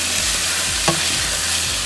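Lasagna sauce with garlic and salt sizzles steadily in a pan while a spoon stirs it, a continuous close frying hiss with occasional soft scraping strokes.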